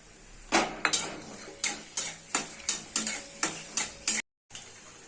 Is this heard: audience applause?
no